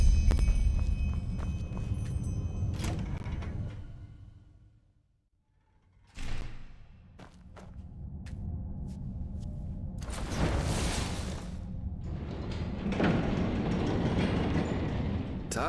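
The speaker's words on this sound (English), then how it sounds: "I'll see if I can get the train running somehow." A train in Enderal rumbles heavily and then fades to a brief near-silence. Its machinery restarts with clanks and knocks and builds into a loud, steady rolling clatter with hissing bursts of steam.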